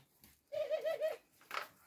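A ringneck dove coos close by, giving a short rolling series of soft, throaty notes followed by one brief separate coo.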